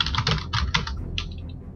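Quick bursts of computer keyboard typing while entering a chat message in World of Warcraft: The Burning Crusade, a short run of clustered clicks that thins to a few final taps, close and alone.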